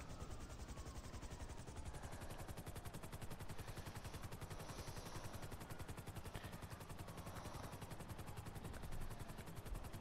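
An Annihilator helicopter in GTA 5 Online thunders close by with a fast, steady rotor chop that runs the whole time, mixed with bursts of gunfire.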